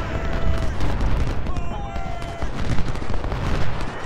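Cannon artillery fire from the Civil War strategy game Ultimate General: Civil War rolls as a dense run of overlapping booms and shots, with someone speaking German over the battle.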